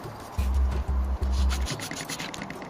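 Filing a self nock into a wooden arrow shaft with a diamond file: three rough, rhythmic rasping strokes close up, then lighter scraping alone.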